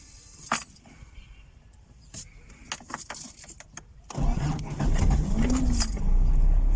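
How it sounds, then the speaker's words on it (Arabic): A car engine cranks and catches at about four seconds, settling into a steady idle, on a car being started in first gear without the clutch because of a broken clutch cable; light clicks and key jingles come before it. "هتلاقي العربيه دارت معاك بدون اي مشكله"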